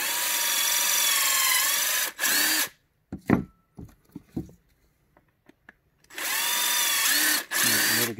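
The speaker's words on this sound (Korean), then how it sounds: "여기에서 구멍을 뚫어 보겠습니다" A power drill boring a hole during orchid (C. walkeriana coerulea) mounting work, with a loud high whine that winds down. Several knocks and clicks follow in a quieter gap, then the drill starts again in two further bursts.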